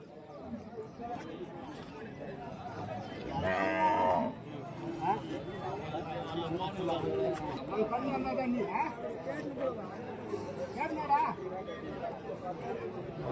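Cattle at a busy Vaniyambadi market for native breeds low and moo amid a steady din of crowd chatter, with a louder bellow standing out briefly near the start and people talking throughout.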